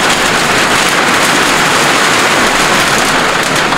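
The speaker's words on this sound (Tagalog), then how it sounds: "Ayan na naman po ang ulan." Heavy monsoon rain pours down steadily in a dense, even hiss of drops on surfaces, constant and loud throughout with no voices.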